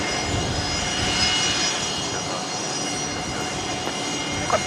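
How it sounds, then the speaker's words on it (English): A Fokker airliner's engines roar loudly and steadily at Brisbane Airport, a continuous broadband drone with no talk over it. "We're hearing a Fokker pretty loud there at the moment"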